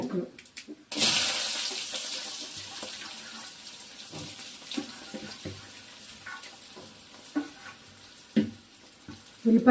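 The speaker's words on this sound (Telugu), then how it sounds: "ఇప్పుడు తాలింపు గింజలు వేసుకున్నాను. తర్వాత ఉల్లిపాయ" Tempering seeds sizzle in hot oil in a home kitchen, with onions about to go in for a bitter gourd fry. A loud burst of frying starts after a second and continues steadily, with scattered clatter and stirring over it.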